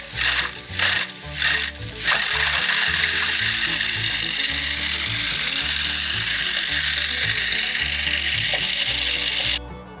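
A Hiniker stainless steel tailgate spreader runs at speed, with a loud continuous mechanical clatter and a fast ratcheting rhythm. A few uneven surges come at the start, then the noise runs steadily before cutting off abruptly.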